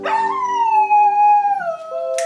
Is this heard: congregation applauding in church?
no